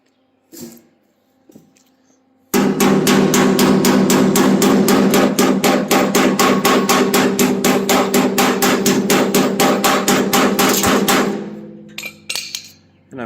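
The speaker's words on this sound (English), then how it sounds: "So now I need to hammer this down." A hammer pounds welded sheet metal on an old 1971 pickup bed, a rapid, relentless run of loud ringing metallic blows lasting about nine seconds, then a few scattered taps.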